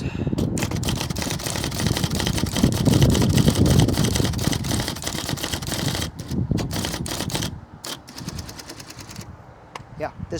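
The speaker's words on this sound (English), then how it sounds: "this machine is fully typing, fully functional, without being plugged into anything" Battery-powered IBM Selectric electric typewriter typing under its own power, a rapid rattle of keystrokes over a steady motor hum, loudest early then thinning into sparse, separate clacks near the end.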